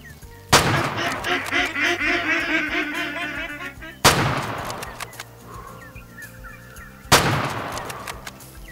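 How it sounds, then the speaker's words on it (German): Three loud gunshots ring out in the hunting game Way of the Hunter, fired at ducks on water, each sharp blast spaced a few seconds apart with rolling echoes, while ducks quack and honk in between. "Also bringt das jetzt was, wenn ich darauf schieße, auf die Predator-Enten?"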